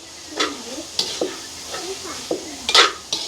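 A vegetable mixture with leeks sautés in a pan under a soft sizzle, with a spoon scraping and tapping the metal in a loose rhythm of about one stroke every half second.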